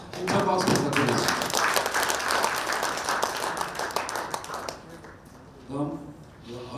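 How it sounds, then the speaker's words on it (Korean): Audience applause at a Masan Yongma High School centennial ceremony, a dense burst of clapping that tapers off after a few seconds, with a voice speaking briefly near the end. "힘찬 박수 부탁드리겠습니다"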